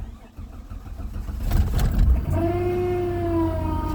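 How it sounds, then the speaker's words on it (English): A 1998 Chrysler Cirrus LXi V6 cranking briefly and catching, then settling into a steady idle with a whining tone, heard close and fairly loud. "Little car starts right up."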